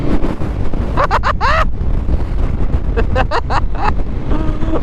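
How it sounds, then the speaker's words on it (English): Wind roars steadily into the microphone on a motorcycle ride across the Isle of Mull, a loud, constant rumble with a voice exclaiming over it. "wind!"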